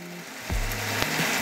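Pinot Noir wine poured into a hot pan of lamb chop sauce, a loud sizzle that swells suddenly and then keeps up a steady frying hiss, with no one talking.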